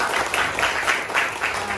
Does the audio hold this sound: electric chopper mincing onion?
no